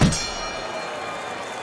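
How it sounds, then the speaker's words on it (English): A boxing bell ends the sixth round in the Fight Night Champion video game, a single loud metallic clang whose bright ringing tone sustains and slowly decays, with crowd noise beneath. "Working our way towards the bell."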